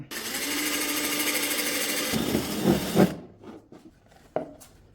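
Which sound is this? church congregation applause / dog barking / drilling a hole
drilling a hole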